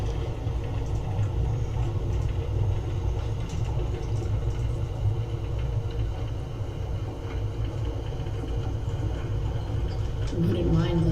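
A train ride in Life is Strange: Before the Storm, with a steady low rumble and rattle of a moving railcar that carries on throughout, plus a brief clatter near the end.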